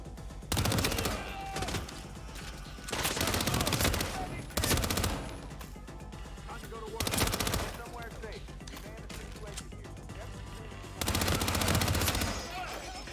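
Gunfire aimed at the player in Hitman, loud bursts of shots coming in several separate volleys across the stretch, with scattered game sounds and voices between them.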